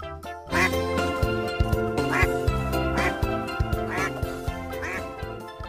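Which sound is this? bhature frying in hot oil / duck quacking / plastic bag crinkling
duck quacking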